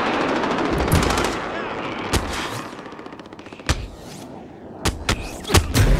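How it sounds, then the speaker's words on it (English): Loud automatic gunfire in a Warzone battle royale match, repeated sharp bursts and single cracks close by, with fainter shots between and brief voice chat. "They're shooting at me."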